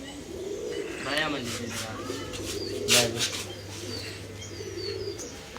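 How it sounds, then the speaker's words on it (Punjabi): A steady low pigeon coo runs for several seconds beneath nearby chatter, with a few bird chirps on top. "ਕਿਹੜਾ ਕਬੂਤਰ ਹੈ"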